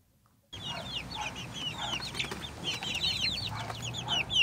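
Baby chicks chirp constantly in rapid, high overlapping peeps, kept warm without a heat lamp after a hurricane, close and continuous with a low hum beneath and no talking.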